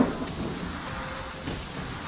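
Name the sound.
rain and thunder during outback storm in Australia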